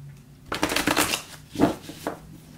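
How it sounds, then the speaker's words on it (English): Tarot deck of Anna K. Tarot cards being shuffled by hand, a short burst of riffling flutter followed by two quicker, softer shuffling rustles, close and fairly quiet with no talking. "I'm going to do one more shuffle."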